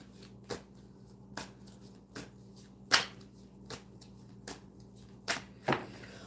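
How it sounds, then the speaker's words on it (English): Tarot cards are shuffled in quiet, separate bursts, each a short crisp riffle or slap, about eight of them spaced irregularly and heard up close with no talking. "Give me just a second here to shuffle back in. We're going to shuffle back in."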